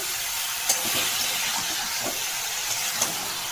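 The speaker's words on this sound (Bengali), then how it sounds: "সব সিদ্ধ করা সবজিগুলো দিয়ে নিয়েছি, একটু আলু করে কষে নেবো।" Boiled vegetables and potato frying in a pan while being stirred, a steady close sizzle and hiss with a few sharp scrapes of the spoon, no one talking.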